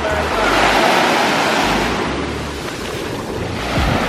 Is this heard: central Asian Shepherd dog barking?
no